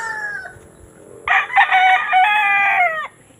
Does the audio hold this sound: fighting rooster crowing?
yes